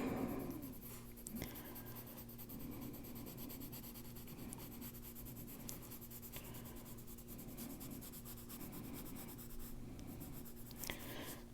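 A graphite pencil scratches steadily across paper in close, continuous strokes, thicker and thinner marks blending into an unbroken rasp with no voices.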